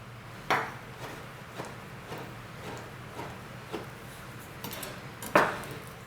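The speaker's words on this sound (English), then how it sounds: "I'll take my knife and just cut it right into cubes" A knife cuts avocado into cubes, a series of soft evenly spaced taps on a cutting board, with two sharper metallic clinks near the start and end.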